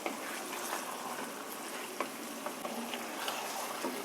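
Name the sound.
chicken cooking in a pot with added water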